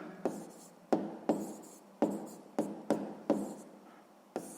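A pen writes out a sixth-grade math solution on paper in a series of distinct scratchy strokes, roughly eight separate bursts with short pauses between them, close and fairly quiet.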